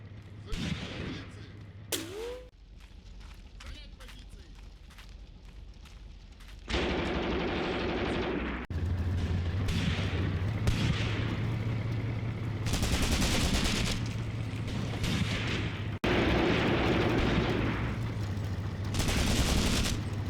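Video game battle sounds from Graviteam Tactics: Mius Front, with machine-gun bursts, rifle fire and artillery booms as tanks and infantry attack German positions. Fire starts sparse and grows into a loud, continuous fusillade with distant thuds underneath.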